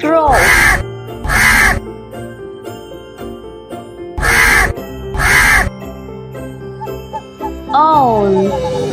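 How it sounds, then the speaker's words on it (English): A crow caws in four loud, harsh bursts grouped in two pairs, set over a soft musical backing with a rising tonal flourish at the end. "This is a crow."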